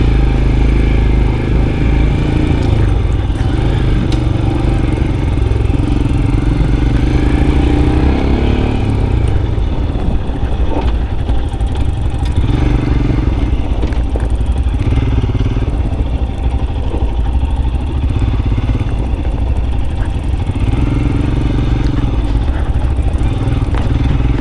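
Royal Enfield Scram 411 motorcycle ridden across a dirt parking lot, its single-cylinder engine thrumming steadily and loud throughout, with shifts in pitch as the throttle rises and eases.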